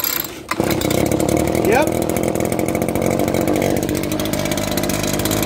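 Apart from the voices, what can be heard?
Echo chainsaw being started without choke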